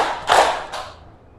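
Students in a classroom clap together on cue, a sharp group burst of claps, then a softer second clap before the sound dies away.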